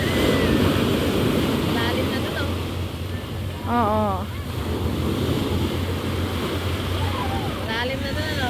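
Sea waves wash around a small boat, a loud broad rush mixed with wind buffeting the microphone, while people talk and exclaim briefly over it.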